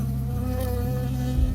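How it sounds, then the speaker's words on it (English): In the Firewatch video game, a bee buzzes in a close, steady drone that holds without a break, with no voices over it. "I got stung by a bee."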